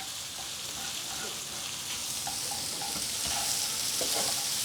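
Noodles and vegetables are stir-fried in a wok with a loud, continuous sizzle and hiss. Scraping and tossing sounds run throughout, and no one speaks.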